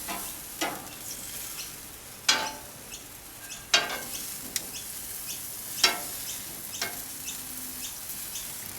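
Sausages sizzle on a barbecue grill in a soft, constant hiss, broken by several sharp crackles and pops as fat drips and flares.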